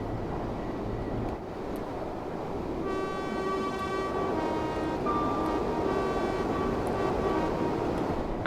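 A Class 385 three-coach commuter train in Train Sim World 3 runs at speed between Edinburgh and Glasgow, a loud steady rumble with sustained tonal whines rising from the traction motors, no talking.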